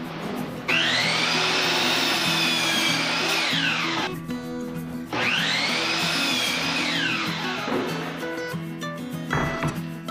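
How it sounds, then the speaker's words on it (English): Miter saw cutting wood for a gaming table build, two long loud whining cuts with the blade spinning up, biting through the board and winding down, then a brief third burst near the end, close and alone. "I'm going to be using my miter saw"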